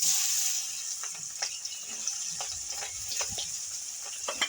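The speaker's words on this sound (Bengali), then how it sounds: "পেঁয়াজটা একটু ভেজে নেবো ভালো করে।" Chopped onions with bay leaf fry in plenty of hot oil, a continuous hiss with scattered crackles and occasional spoon scrapes, no voices.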